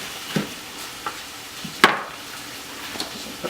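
Garlic and jalapeno stirred in a frying pan, a soft steady sizzle with a few sharp scrapes and taps of a utensil against the pan, fairly quiet and close.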